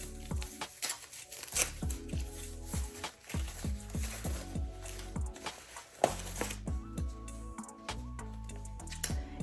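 A Coach purse package being unwrapped at close range, with a steady run of crinkling, rustling paper and plastic and small ticking handling noises.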